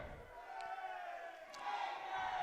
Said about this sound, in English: You might hear the audience, the crowd here